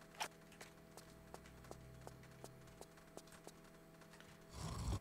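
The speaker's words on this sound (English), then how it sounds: "Little footstep sounds." Light character footsteps in Tomb Raider III on a South Pacific level, a steady rhythm of small sharp taps about every third of a second, faint and alone over a quiet hum, ending in a louder noisy swell.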